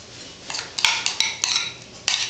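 Sauce is worked into raw steak tartare meat in a bowl with a utensil, a series of close, irregular clinks and scrapes, roughly six distinct strokes spread over a couple of seconds, with no voices.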